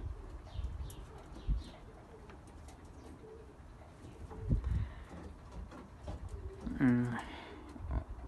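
Breeding pigeons cooing in a loft, a clear burst of throaty, pulsing coos rising over a low background murmur of movement and faint rustling, with scattered soft knocks and flutters around it.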